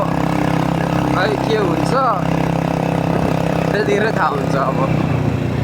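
A motorcycle engine runs continuously with a steady mid-pitched drone on a hillside road in Nepal, while someone talks over it.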